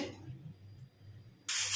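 A pressure cooker cooking jackfruit curry with yogurt lets out a sudden loud burst of hissing steam near the end, after a quiet stretch of faint low rumble.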